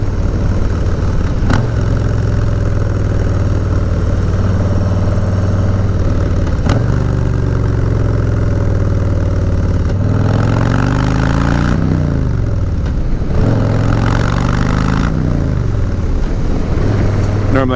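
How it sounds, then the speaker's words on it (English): Harley-Davidson motorcycle with dual exhaust decelerating with rev-matching blips, a deep loud rumble with sharp throttle stabs and falling engine pitch sweeps, heard close and continuous. "Give you guys a taste of how it sounds like coming decelerating and like rev matching."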